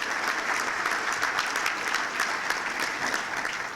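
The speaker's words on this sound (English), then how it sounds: "give a round of applause for the great job that they did at our last business after work" Steady applause from an audience at a chamber of commerce breakfast, a dense, even wash of many hands clapping throughout, moderately distant with no voices on top.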